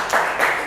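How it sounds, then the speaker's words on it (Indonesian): Classroom applause for a student group, a short burst of many hands clapping together at steady loudness, brief and continuous. "Berikan tepuk tangan buat kelompok 3."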